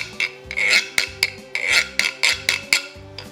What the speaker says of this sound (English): So this is a Quiro.